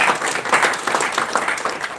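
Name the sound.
applause for the mayor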